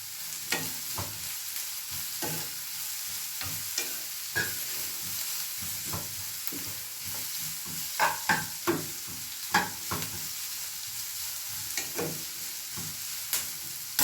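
Green chillies and a sprig of curry leaves fry with onions in a pan, giving a steady sizzle broken by repeated scraping stirs and clinks of a spatula, close and clear with no talk.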